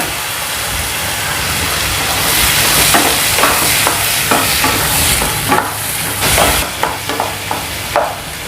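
Tomatoes, curry leaves and green peanuts frying and being stirred in a pan for kadalai kuzhambu, a steady close sizzle broken by repeated scraping stirs, no talking.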